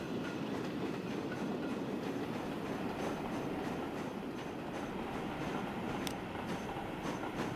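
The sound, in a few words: train in the video game Transport Fever 2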